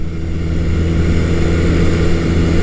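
A Honda CB400 T Hawk motorcycle engine runs loud and close above 5,000 RPM, a steady, buzzing drone that holds level throughout without talk.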